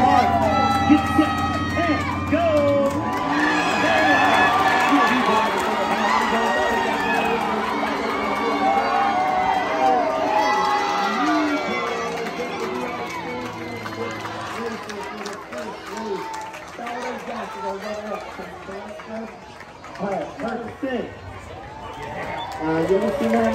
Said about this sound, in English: The louder you cheer, the faster we go.